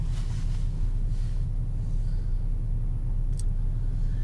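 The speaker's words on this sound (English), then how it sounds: "I took it for another test drive just so we could see if that takeoff jerkiness is still there" A 2005 GM car with a 4T65-E automatic transmission and jerky takeoff rolls along on a test drive, a steady low engine and road rumble heard from inside the cabin with no speech.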